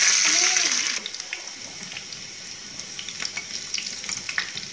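Chopped onions hit hot oil in a pan for papaya sambar, giving a loud, close hiss that settles into a steady sizzle with light crackles and stirring scrapes.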